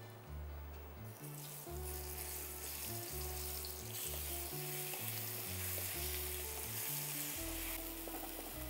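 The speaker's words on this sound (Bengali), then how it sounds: "আমি নাড়তে থাকছি" Boiled potatoes sizzle and fry steadily in a pan while being stirred, with a loud, stepping bass-heavy music track playing underneath throughout.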